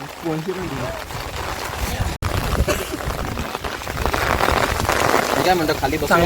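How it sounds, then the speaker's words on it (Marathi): Steady rain pours down on a group of trekkers on Lingacha Dongar in Ratnagiri, a loud, continuous hiss of drops striking surfaces close by, while people talk and laugh beneath it. "चांगलाच पाऊस आला आहे"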